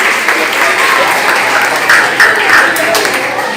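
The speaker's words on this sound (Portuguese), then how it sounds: "Muito bem, palmas." Classroom audience applauding during a Portuguese-language lecture session, a steady dense patter of hand claps filling the whole stretch at close range with some voices mixed in.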